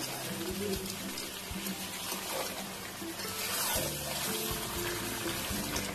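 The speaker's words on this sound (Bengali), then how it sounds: "এবারে আমি গরম জল দিয়ে দেব।" Hot water poured into chicken cooking with spices in a pan, a soft continuous pouring and bubbling sizzle, fairly quiet, with a voice talking faintly over it.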